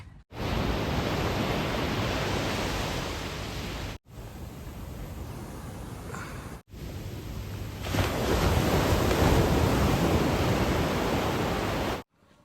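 Strong sea waves at dawn on secluded Dublagadi beach, a steady, dense roar of surf heard alone, swelling louder toward the end, with brief breaks in the sound.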